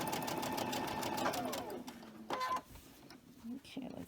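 A sewing machine stitches over a quilt block seam in a quick run for about one and a half seconds, then gives a few short, close bursts with pauses between, and brief talking comes in near the end.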